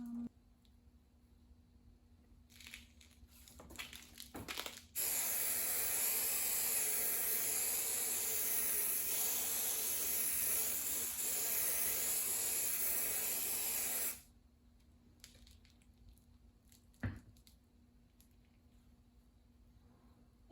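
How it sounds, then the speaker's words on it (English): An aerosol can of adhesive sprays with a sustained loud hiss for about nine seconds, preceded and followed by quieter handling noises and a low steady hum. "And spray the adhesive."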